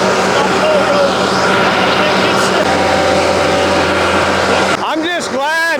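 Heavy Bobcat 770 skid steer engine roaring at high load, hooked up and pulling against a 265 skid steer at an outdoor skid steer event, a steady loud drone that dips near the end as the pitch shifts and whines.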